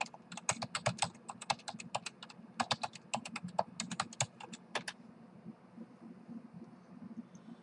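Login details typed on a computer keyboard, rapid clattering keystrokes in quick bursts with brief pauses, close and fairly quiet over a low background hum, then stopping near the end.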